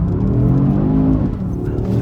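An Audi RS3 pulls hard in second gear, its engine note loud and close as it revs steadily for a couple of seconds, with a slight dip and recovery in pitch.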